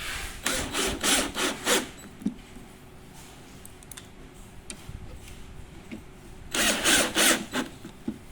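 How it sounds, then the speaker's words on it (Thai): A power driver sends screws into the panel of an NT551 bedside cabinet during assembly: two loud, close whirring bursts of a few seconds each, separated by quieter handling noises, with no talking. "แล้วก็ยิงน็อตลงไปได้เลยนะคะ"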